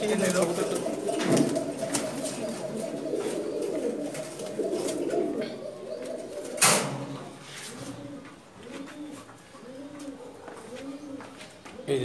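Pigeons cooing at a large pigeon market in Dhaka, rolling throaty coos repeating near and clear, with a busy crowd murmur and people talking throughout.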